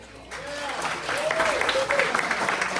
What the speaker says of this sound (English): how about a round of applause for our venue tonight?